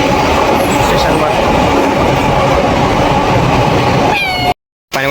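A train rumbles loudly through Nashik railway station, with continuous rolling noise and rhythmic clickety-clack of wheels over rail joints close by, plus a squeal near the end before the sound cuts out abruptly; voices are faintly mixed in.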